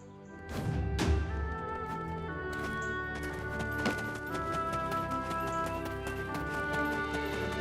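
Horse hooves clip-clop at a stable in the online game Black Desert Online, a steady run of hoofbeats over a constant background, with a few louder thuds near the start.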